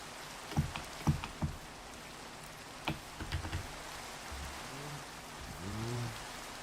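Steady broadband hiss of Minecraft rainfall fills the scene at a low, even level, broken by a few sharp taps and thuds and some low warbling game tones toward the end, with no voices.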